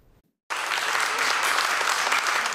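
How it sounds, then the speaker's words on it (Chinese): Warm, sustained applause from a crowd of overseas community members welcoming TSMC founder Morris Chang and his wife at their hotel in San Francisco, a dense steady clapping that starts abruptly after a brief quiet moment. "现场响起热烈掌声"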